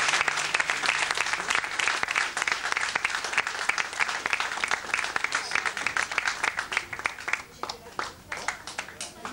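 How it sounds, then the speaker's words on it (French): Steady, dense applause from an audience for a boxing opponent at a boxing challenge event in Marseille, sustained for about nine seconds and close, with no talk over it. "je vais vous demander de l'applaudir"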